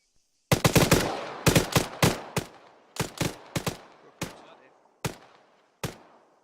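Gunfire opening up on command during an airsoft or military-style game, loud close bursts and single shots, quick clustered reports at first, then spaced shots with echoing decays.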